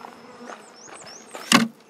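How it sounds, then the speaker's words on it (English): Honey bees buzzing close by in a hive in short wavering drones, ending with a louder thump or knock. "I've got an awful pile of bees, guys."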